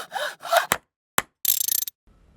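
Zombies breaking things in the video game 7 Days to Die: a few short sharp knocks and a burst of scraping, crunching noise with gaps of silence between, fairly close and brief.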